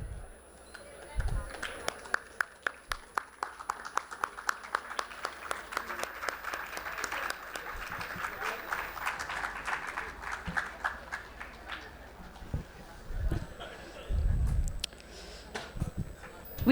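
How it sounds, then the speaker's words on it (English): Audience applause for a keynote guest at a conference, a steady wash of many hands that swells and fades over several seconds, with a voice speaking faintly under and after it. "Give a huge round of applause for our guest,"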